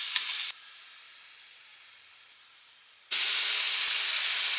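Onions frying in a pan for a budget one-bowl meal, a steady loud sizzle that drops to a quieter hiss before surging back up loudly, with no talking.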